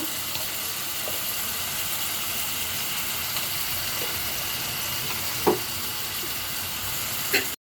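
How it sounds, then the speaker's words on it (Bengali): Spices and lentils for dal sizzling and frying in a pan, a steady crackling hiss with occasional clinks of stirring, no talk. "এখন মশলাটার সাথে ভালো করে কষিয়ে নেব ডালের সাথে।"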